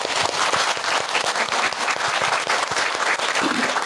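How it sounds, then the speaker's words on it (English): Audience applause that fills the room, with dense, loud clapping from many hands sustained evenly throughout and no voices breaking through. "Another round of applause."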